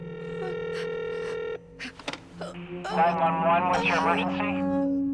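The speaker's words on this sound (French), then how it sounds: "J'ai entendu un appel téléphonique." A telephone line sounds with steady electronic tones and beeps for about a second and a half, then clicks and a burst of dialing or ringing signals follow, ending in a warbling, buzzing line tone that runs to the end.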